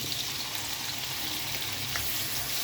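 Chicken liver frying in a pan, a soft continuous sizzle close by, fairly quiet and steady, with no talk.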